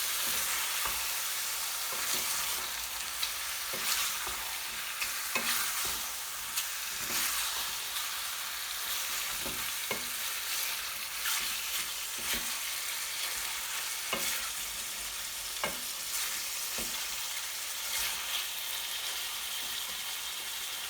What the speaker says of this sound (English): Just seal the meat for now